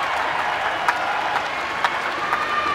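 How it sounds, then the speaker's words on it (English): A crowd at a women's 400m freestyle S9 swimming race at the ASEAN Para Games keeps up continuous applause and cheering, steady and fairly distant, with a few sharper claps standing out. "the crowd showing their appreciation"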